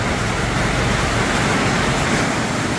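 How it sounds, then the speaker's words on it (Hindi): Water flowing at a borewell drilling site, heard as a dense, steady rushing wash close to the microphone, continuous and without speech. "पानी बह रही है"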